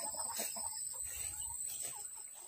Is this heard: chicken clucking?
yes